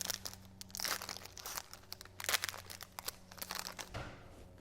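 Foil wrappers of 2023 Select H2 trading card packs being torn open and crumpled, a close, busy run of crinkling rips and crackles with no voices.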